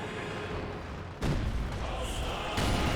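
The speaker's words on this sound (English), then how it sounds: "A lot of high explosives hurled at him." High-explosive shelling in Company of Heroes 2, a dense, continuous barrage of booming impacts and rumbling blasts that swells louder partway through, with a voice talking over it.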